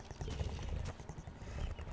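Brisk clip-clop of horse hooves trotting at a quick, even rhythm in the video game Ark Survival Aberration, fairly close and clear for a couple of seconds.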